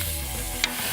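Onion sautéing on the sauté setting of an electric pressure cooker, a brief close sizzle and stirring scrape with one short sharp click near the end.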